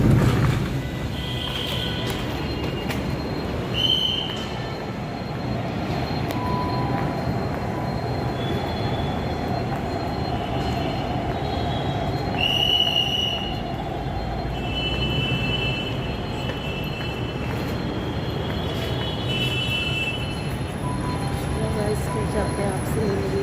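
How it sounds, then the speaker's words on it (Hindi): Metro train cars rumble steadily close by as the train runs in, with high metallic wheel squeals drawn out at intervals over a continuous loud roar, and people speaking faintly beneath it. "मेट्रो से उतरने वाले हैं।"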